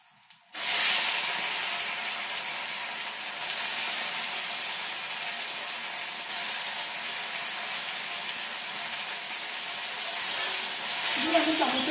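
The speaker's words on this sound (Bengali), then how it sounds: "দিয়ে আমি টমেটো কুচিটা একটুখানি ফোড়নের সাথে ভেজে নেব" Chopped tomato drops into hot tempering oil for dal and bursts into a loud, close, continuous hiss and sizzle that holds steady for over ten seconds after a brief quiet start.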